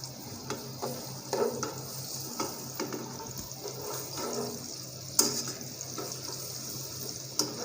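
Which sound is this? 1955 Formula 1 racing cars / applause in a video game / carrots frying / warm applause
carrots frying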